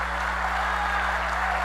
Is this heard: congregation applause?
yes